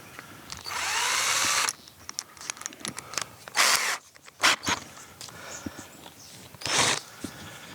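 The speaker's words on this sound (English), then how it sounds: "This is a right hand drill." A power drill with a right-hand bit whines at high speed in a sustained burst into metal, a David Brown 990 tractor's final drive casting, followed by shorter drilling bursts separated by clicks and handling noises, close up.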